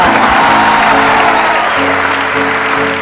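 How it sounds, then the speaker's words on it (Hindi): An audience claps in sustained, dense applause at a business talk-show interview about money-making ideas. The clapping is loud and steady throughout, with no speech over it. "बजाओ ताली।"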